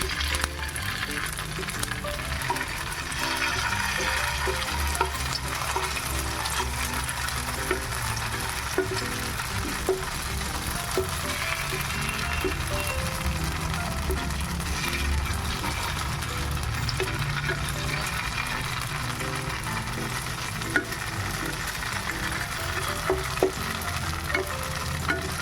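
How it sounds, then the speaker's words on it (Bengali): Paneer (chhana) fritters deep-frying in oil, a loud continuous bubbling sizzle held steady throughout, close up, with occasional light clicks and no talking. "পনির বড়াগুলো ভেজে নেব"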